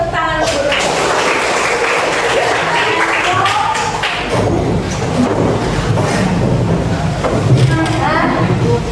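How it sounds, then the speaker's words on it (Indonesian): A classroom of vocational high school students clapping together, dense loud rhythmic hand claps close by with voices mixed in throughout. "Tepuk tangan dulu."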